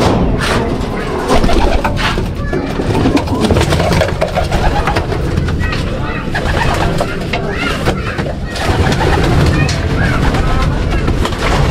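A loft of racing pigeons coos amid a dense, loud wash of flapping and bird noise, with voices mixed in throughout.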